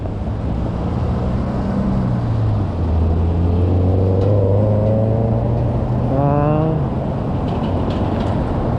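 Busy city traffic in the Mira Mesa area with many vehicles passing, a dense roadside roar with engines revving and shifting pitch up and down, loud and close throughout.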